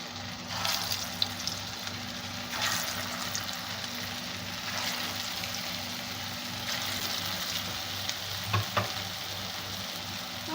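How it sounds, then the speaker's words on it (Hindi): Cauliflower kofta balls fry in half a cup of oil over medium heat in a pan, a constant close sizzle with occasional bubbling bursts and light clicks, no talking. "हल्के हल्के ना फ्राई कोफ्ते करेंगे"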